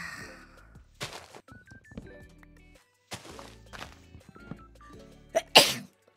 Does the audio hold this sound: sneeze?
yes